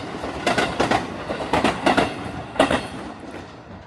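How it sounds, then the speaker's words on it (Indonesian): A nearby train in rural Japan rolls past with loud rhythmic clickety-clack from its wheels, repeated bursts of clatter that fade slightly at the end. "ini kebetulan lagi ada kereta lewat"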